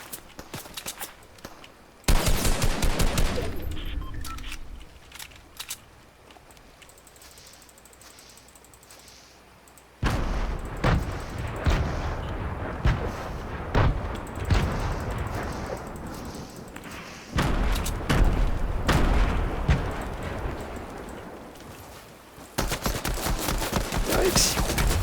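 Gunfire aimed at the player in Fortnite Chapter 2: loud bursts of rapid shots and volleys come in several clusters, separated by quieter stretches of game ambience.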